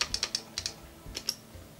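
Clicky computer keyboard typing, close and crisp: irregular bursts of quick keystrokes, several rapid clicks, a pause, then a few more, with no talk.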